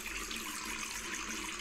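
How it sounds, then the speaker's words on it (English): A steady, continuous rush of flowing water from the repaired hose in the Fireman Sam Fire & Rescue iPad game, broadband and even throughout with no voices over it. "Here comes the water."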